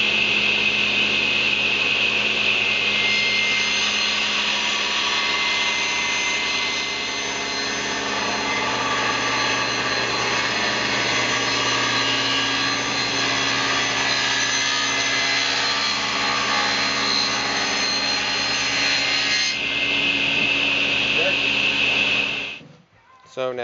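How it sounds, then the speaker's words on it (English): Cutting wooden tenons for a large library table with a power tool, a loud steady whine running continuously for about twenty seconds before it stops abruptly near the end. "And now we're going to cut out the tenons here."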